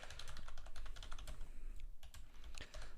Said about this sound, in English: I'm going to type a variable right now